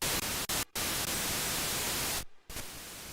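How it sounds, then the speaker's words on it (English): Broadband hiss from the noise generator of a Roland Alpha Juno synthesizer, played alone with the other voices switched off. It holds steady and loud, broken by a couple of brief dropouts and a longer gap near the end. "So actually we can turn everything off and just have some noise here."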